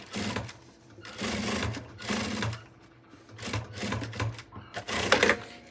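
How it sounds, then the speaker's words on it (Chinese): Sewing machine stitching the seam of a fabric hedgehog crossbody bag, rapid mechanical chatter in several short runs with brief pauses between, close and fairly quiet. "再把它翻上来，来车这个缝缝的地方，把它车住"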